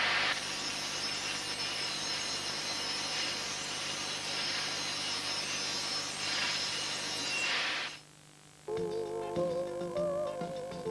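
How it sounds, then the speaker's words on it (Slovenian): Metal grinding during machining makes a loud, steady, hissing rasp for about eight seconds, then cuts off abruptly and gives way to a quieter, tonal machine sound. "Brušenje."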